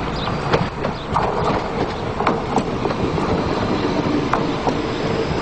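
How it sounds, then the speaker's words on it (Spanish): A Renfe Civia commuter train runs along the rails with a steady, loud rolling roar, rhythmic clickety-clack from the wheels and occasional faint squeals, continuous throughout with no voices. "los nuevos Civia, que ya ruedan por las cercanías de las capitales españolas"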